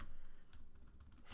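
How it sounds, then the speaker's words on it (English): Code being typed on a computer keyboard, with a steady run of quick, light key clicks at close range and no voices. "And then I'm just going to type code here from the last video."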